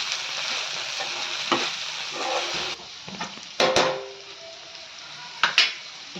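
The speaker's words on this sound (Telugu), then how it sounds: "కారం వేస్తున్నాము. సైడ్ నుంచి తిప్పుకోండి, లేదంటే ముక్కలు అయిపోతాయి ఇవి బెండకాయ పీసెస్ ఉడకని." Okra fry being stirred in a hot pan after chili powder is added, with a steady sizzle and several sharp scraping knocks of the spatula against the pan, no talking.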